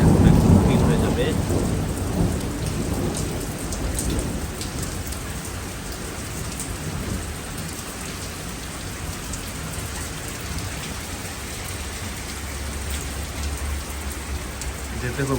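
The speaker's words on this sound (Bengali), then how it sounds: "যেতে খুব বজ্রপাত হচ্ছে" Heavy rain pours outdoors during a thunderstorm, with a car parked outside. A loud rumble of thunder opens the clip, then a dense, steady downpour hisses and patters on surfaces for the rest of it.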